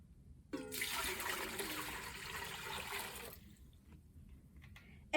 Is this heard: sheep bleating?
no